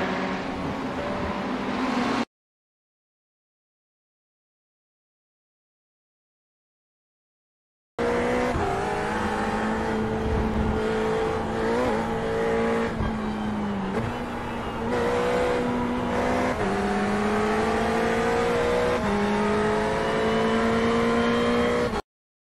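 Race cars in the sim racing game iRacing roar past with high revving engines and tire squeal, a burst at the start, a silent gap, then a long stretch of loud shifting engine tones, no talking.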